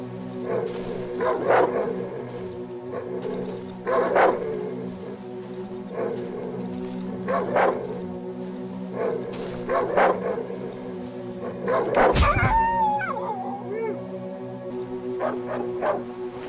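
A dog enemy in the survival horror game Darkwood growls and barks in repeated rough bursts over a low droning backdrop, with a louder snarling outburst partway through.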